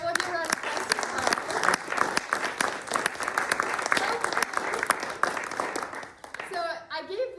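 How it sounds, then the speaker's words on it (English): An audience claps steadily in loud, sustained applause after a harp recital, the dense clapping filling the room for several seconds before thinning out as a voice begins speaking at the end. "We'll give her a round of applause to Hope."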